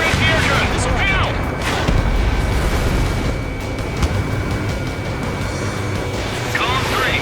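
Fighter jet guns firing in the air-combat video game Ace Combat 7 rattle in a dense, loud stream over a constant roaring engine and wind wash, with brief whooshes near the start and end.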